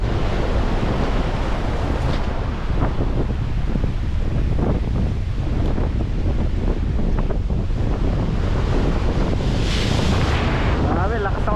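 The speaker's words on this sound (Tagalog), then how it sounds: "Grabe, lakas ang mga alon." Strong ocean waves surge and crash in a continuous, loud roar, heavily mixed with rumbling wind buffeting the microphone throughout.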